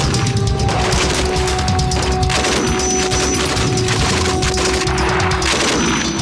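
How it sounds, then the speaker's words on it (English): Heavy army patrol gunfire returning fire on enemy contact: dense, continuous bursts of shots and booms, loud and close, with overlapping rapid reports throughout and no pause. "the team spread out parallel with the enemy contact and return heavy fire."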